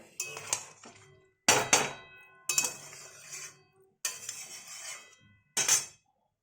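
Maggi noodles are stirred in a pan until crumbly, heard as five separate bursts of metallic scraping and clinking of a utensil against the pan, each lasting about a second with quiet gaps between, close and moderately soft.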